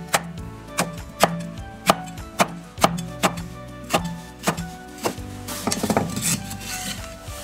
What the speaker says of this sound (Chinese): 切成滚刀块